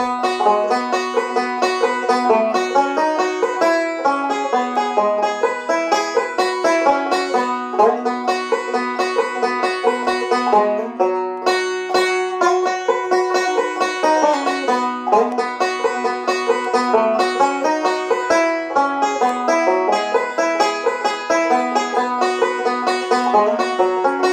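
Bluegrass banjo plays a busy Scruggs-style backup part down the neck, quick rolling picks in a steady, even rhythm, bright and close with no singing.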